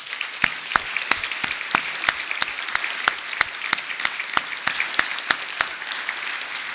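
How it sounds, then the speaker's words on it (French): Audience applause at a Master's degree graduation ceremony for an accounting and management control department, a steady clatter of many hands with sharp individual claps standing out, moderately loud and continuous without talk. "Je vous demande donc un tonnerre d'applaudissements pour toutes les équipes de TSM."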